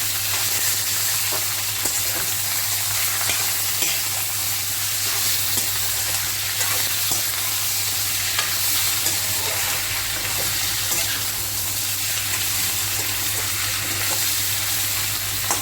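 Chicken fried in a pan with ginger and garlic for an Assamese-style curry, a loud, continuous close-up sizzle with soft scraping and stirring sounds running throughout.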